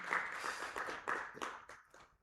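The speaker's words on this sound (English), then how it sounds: "a round of applause for you and your team" Scattered audience applause at a business roundtable in Nakuru, faint and distant, with a handful of separate clap bursts that thin out and fade toward the end.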